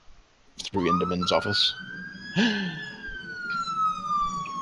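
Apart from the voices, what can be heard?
fire engine siren in a video game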